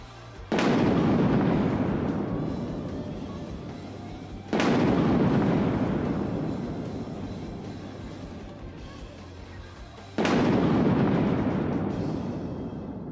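A lightning strike sound effect in a digital art program plays three times, each a sharp loud crack followed by a long rumbling decay, evenly spaced with no talking.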